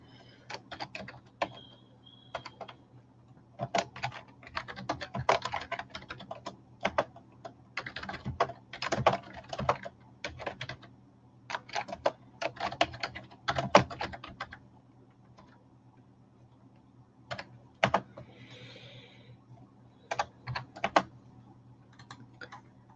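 Typing on a computer keyboard, irregular bursts of close, crisp key clicks separated by brief quiet gaps.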